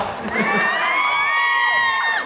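A crowd of onlookers at a Thai TV drama shoot cheers and whoops, high voices rising together into a loud, sustained shout that swells and then fades after a couple of seconds.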